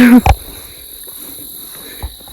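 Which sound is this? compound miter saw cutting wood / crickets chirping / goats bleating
crickets chirping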